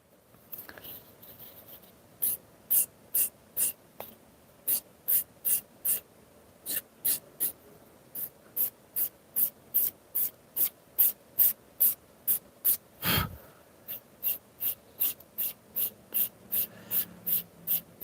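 Leather being rubbed to open its grain before polishing compound goes on, as part of wrapping a leather tool handle: about thirty brisk, evenly spaced strokes, close and fairly loud, with no voices.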